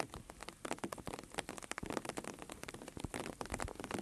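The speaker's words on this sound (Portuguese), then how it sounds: "Agora tá dando uns pingos bem finos." Light, fine rain on a farm, Sítio Riacho Fundo, falling straight down in calm late-afternoon air, with a dense, steady patter of close drops and sharper individual taps throughout.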